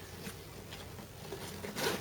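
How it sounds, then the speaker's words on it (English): Zipper on a new SOG Ninja Day Pack backpack being worked open, a few short soft rasping pulls against a quiet background, with a slightly louder stroke near the end. "You can put the zipper like this."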